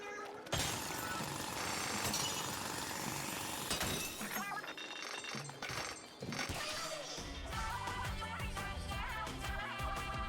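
Drilling for treasure in the video game Splatoon Raiders: a busy wash of crunching, shattering and clinking effects with metallic hits, steady and loud over about ten seconds, with game music underneath.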